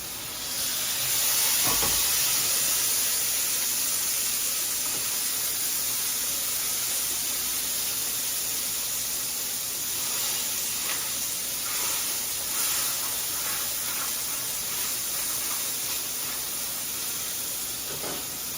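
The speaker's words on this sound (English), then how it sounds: "What does that sound? It's sizzling" Food sizzling in ghee with a fan running nearby, a steady bright hiss that stays even and fairly loud throughout, with small crackles popping through and no talk.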